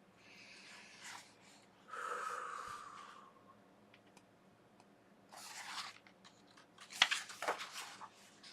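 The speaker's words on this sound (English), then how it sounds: "stop and take a breath." A slow, deep breath drawn in and let out, quiet and close, in several soft airy waves with calm pauses between them and no talking.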